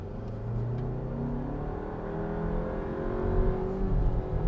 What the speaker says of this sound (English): let's see how this thing drives on the road.